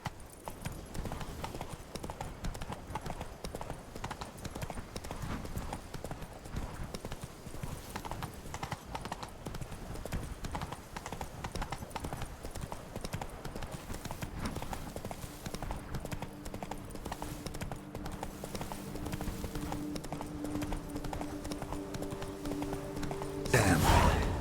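A horse galloping in the video game Witcher 3, with rapid steady hoofbeats throughout, fairly loud and up close, and a brief louder burst at the very end.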